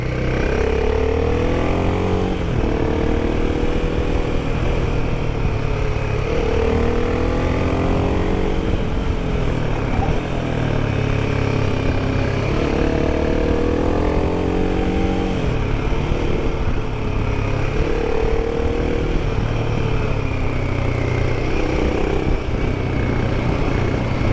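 A Royal Enfield Himalayan 450 on Reise TrailR 50:50 tyres rides narrow mountain roads, its engine droning steadily up close while the pitch rises and falls through repeated gear changes and throttle shifts, with wind and road noise underneath.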